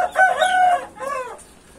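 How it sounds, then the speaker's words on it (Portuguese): A bearded, strong, aggressive rooster crows once, close and loud. The call is a bright, strained cry that rises and then falls away into a shorter closing note, with nothing else around it. "Mas é um galo muito bonito."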